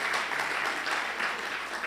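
A church congregation applauds, a short, even patter of many hands clapping together, moderately loud and steady throughout with no voices standing out.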